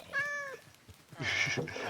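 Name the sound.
cat meowing in a video game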